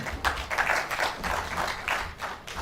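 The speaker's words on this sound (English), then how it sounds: "A round of applause for our presenter." A small conference audience claps for a presenter at a technical session, uneven clapping at moderate distance lasting a few seconds, with no voices.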